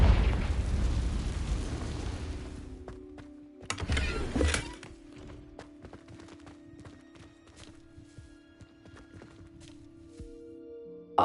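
A Confringo fire spell in Hogwarts Legacy goes off as a short, sharp burst near the middle, preceded by a rumbling blast and followed by a lingering low hum in the game's ambience.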